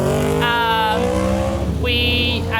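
Motorbikes riding past on a scenic rural road, loud rising and falling engine revs sweeping through twice, close by and continuous across the clip.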